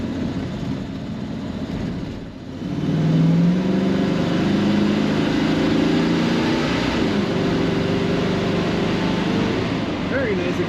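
A 1966 Chevrolet Impala wagon with an automatic transmission accelerating hard, its engine swelling into a loud, sustained roar after a brief dip, then holding steady as the car pulls away with the sound close by.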